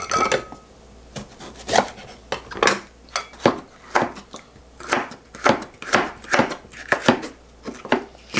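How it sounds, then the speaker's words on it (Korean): Bell pepper sliced into thin strips on a cutting board for a mild children's kimchi: a steady run of about a dozen crisp knife chops, close and clear, with no talking. "이 두 가지 색을 또 같이 예쁘게 조금만 잘라서 한번 넣어 볼게요"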